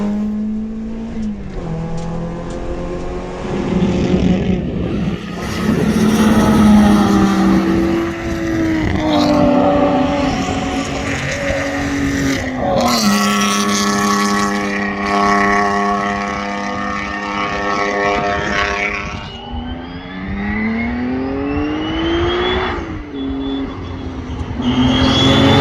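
Race car engine at Pukekohe during a Superlap track stint, loud and close, revving up and down through gear changes with rising and falling pitch sweeps, no talking.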